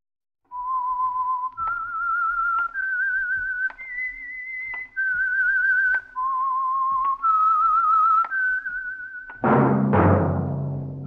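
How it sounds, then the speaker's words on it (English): A lone whistled melody, the theme tune of the old-time radio mystery program The Whistler, rises and falls in clear sustained notes, then gives way to a loud orchestral chord at the end. "That whistle is your signal for the Signal Oil program, The Whistler"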